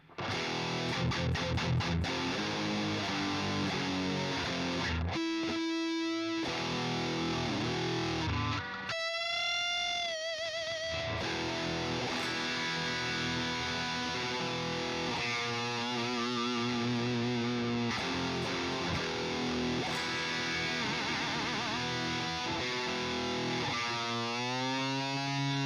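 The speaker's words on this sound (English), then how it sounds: "This is just the bring your own distortion tone." Heavily distorted electric guitar played through the BYOD iOS app's Instant Metal preset, with saturated chugging riffs, sustained bent notes and brief pauses, loud and continuous throughout.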